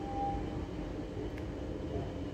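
An RE3 regional express train pulls out of Merkau station with a low, steady rumble, heard faintly and at a distance, with no clear change in level.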